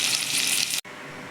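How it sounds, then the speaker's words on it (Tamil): Egg curry masala with chili and coriander powder bubbles and sizzles steadily in a pan, a dense hiss that cuts off abruptly partway through and returns quieter. "மசாலா நன்றாக கொதித்து விட்டது."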